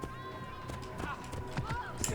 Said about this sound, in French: Attends, je vais juste prendre ce cheval.